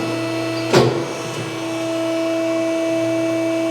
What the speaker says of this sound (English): So we'll retract out our mandrel.